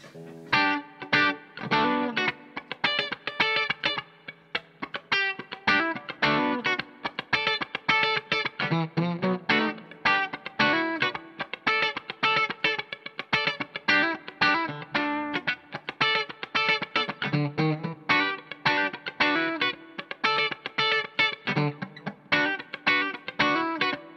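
An electric Stratocaster guitar plays a busy riff through heavy distortion, sharp picked notes in a steady rapid rhythm, loud and close.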